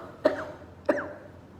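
Two sharp coughs from a Covid-19 patient in a hospital, about half a second apart, close and fairly loud, with quiet background hiss between them.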